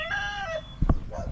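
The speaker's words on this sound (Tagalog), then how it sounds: "Ang dami din siya ditong alagang manok." Pet chickens on a farm in a rural yard: a rooster crows briefly, followed by a couple of short clucks from nearby birds, moderately close.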